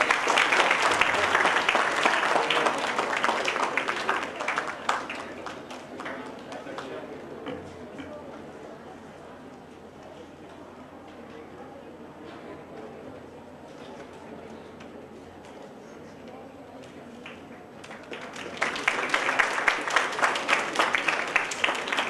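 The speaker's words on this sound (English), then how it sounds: "Let's have a huge round of applause for sir." A hall audience at an engineering and information technology technical session breaks into loud, dense applause that fades to scattered clapping and murmur in the middle, then swells into a strong round again near the end.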